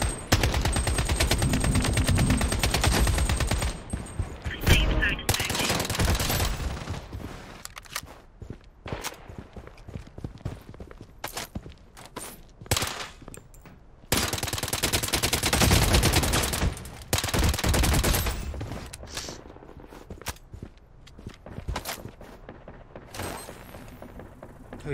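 Gunfire in the mobile shooter Project: BloodStrike comes in loud, long bursts of rapid automatic fire broken by quieter gaps with footsteps and scattered single shots.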